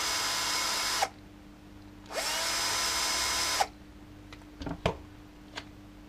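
A power drill backs out screws from the valve body plate of a Ford FMX transmission, whirring in two steady runs of about a second each, followed by a few light metallic clicks.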